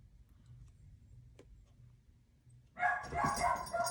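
A dog barks indoors: after near-quiet with faint ticking, a short burst of loud, close barking breaks out toward the end.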